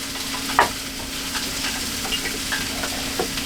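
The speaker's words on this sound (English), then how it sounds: "Got my grease getting hot over here." Hot grease sizzles in a pan while jalapenos are cooked for a duck egg roll, a steady crackling fry with a few sharper pops and spits scattered through it, close and alone.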